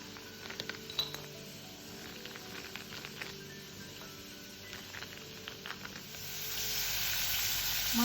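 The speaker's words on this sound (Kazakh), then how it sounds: "Майға шамалы шатты бұрышты шұжғырып алып жатырмын." Pepper fries in oil in a pan: faint clinks and ticks over a quiet hiss, then the sizzle swells and grows steadily louder near the end, close and without talk.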